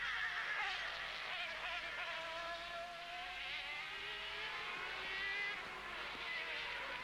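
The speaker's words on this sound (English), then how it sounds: "here come the leaders. Here's the Peugeots carving through already" Peugeot sports prototype race cars from the 1991 World Sportscar Championship at Mexico City pass on track, a continuous high-pitched engine whine with layered rising and falling tones from several cars close together, steady and fairly loud.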